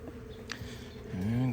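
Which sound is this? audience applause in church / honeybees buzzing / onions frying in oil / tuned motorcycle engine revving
honeybees buzzing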